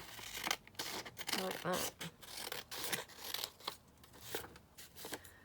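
Scissors snip and trim lace laid onto a die-cut card frame, a run of short crisp cuts and papery rustles close by, with a voice speaking briefly between them.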